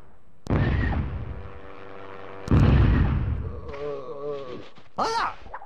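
Two loud booming blasts of gunfire or explosions in the PS1 game Marranos En Guerra, each with a rumbling tail, followed by shouted voices.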